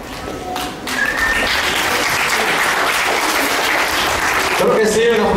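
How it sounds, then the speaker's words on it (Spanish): Loud, dense applause from a crowd at a quinceañera party, swelling after a brief voice and sustained to the end, with voices heard beneath it. "un aplauso fuerte para la reina de esta fiesta, la señorita Jenny"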